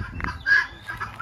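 Chickens cluck in short, close bursts in a spring-time permaculture farm bird area that also keeps ducks and guinea fowl, with no talking.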